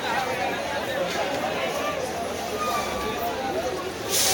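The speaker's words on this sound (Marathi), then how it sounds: "आज फल मार्केटमध्ये खूप गर्दी आहे खास करून" Steady crowd hubbub fills a packed fruit market in Dadar, Mumbai, during Ganpati festival shopping, a dense wash of overlapping voices with no single speaker standing out.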